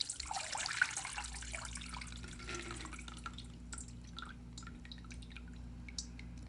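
Water drains and drips from a mason jar of rinsed sprouts into a bowl, a soft trickle with a few distinct drips at the start, faint and close over a low steady hum.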